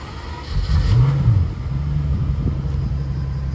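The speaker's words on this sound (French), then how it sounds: "on a entendu le démarreur du V12 quand même" A Pagani Huayra Roadster's V12 engine cranks and catches, then settles into a low, steady rumbling idle close by, in Monaco.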